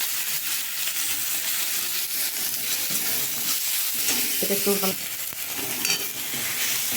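Chopped onion and tomato fry in a pan with a steady sizzle, and a spoon scrapes and stirs them now and then. A voice speaks briefly over the cooking.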